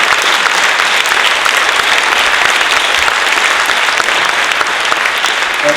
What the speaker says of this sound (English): If any man here tonight deserves a round of applause